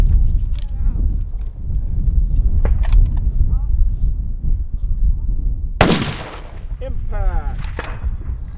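Rifle shots at an outdoor NRL Hunter Grand Slam shooting championship, a sharp loud crack near the middle of the clip followed by a ringing tail, heard over wind noise and steady background talk.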